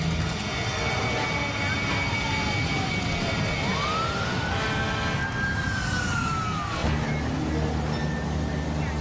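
A police car siren wails at a distance in one long rising and falling sweep over a constant broadband roar, at an explosion scene.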